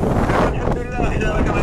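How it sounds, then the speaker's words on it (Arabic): Strong desert wind between Akhfennir and Tarfaya, where sand is encroaching, roars loudly and steadily and buffets the microphone, with a voice faintly beneath the rush. "الله يا ودي الريح والرمله كطير تبارك الله"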